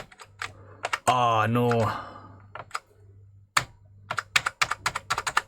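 Keys pressed on an Amiga 1200 keyboard under repair while its test software runs: a quick rhythm of sharp, close plastic clicks, some sparse and some in rapid bursts, with a brief spoken exclamation near the start over a low steady hum.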